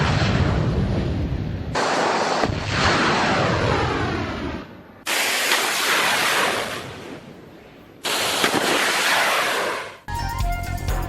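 Bombing by Israeli aircraft at Tehran's Mehrabad Airport and Azadi Square: loud, continuous roaring blasts and rumble in abruptly cut segments, with no voices.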